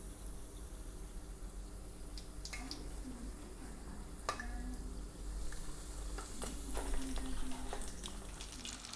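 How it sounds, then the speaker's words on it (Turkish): Chicken-filled crepes, breaded and rolled, frying in hot oil with a steady low sizzle and scattered crackles and pops, loudest in the second half. "Şimdi yağımız ısındı. Kızgın yağı atacağız."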